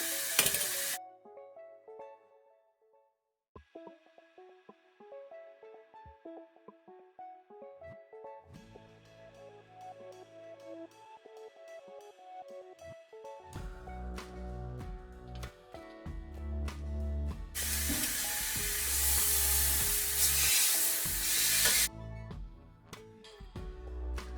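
Food sizzles and fries in a hot pan during a home steak-and-vegetables cook, a steady crackle that swells loudest toward the end, with tonal background music and occasional stirring clatter.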